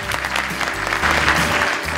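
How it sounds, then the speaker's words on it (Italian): An audience applauds at an awards ceremony for a professional trainers' prize, steady close clapping with a low background hum running under it. "Accogliamolo con un applauso."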